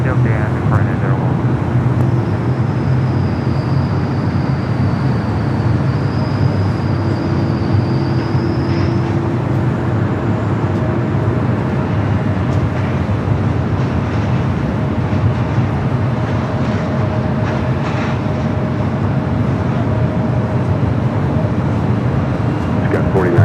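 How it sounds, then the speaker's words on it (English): A jet airliner, Scott 4098, takes off from runway 24 left at LAX, its engines making a loud, sustained roar that holds steady throughout, heard from a nearby plane-spotting position. "Well, that's the takeoff, Scott 4098."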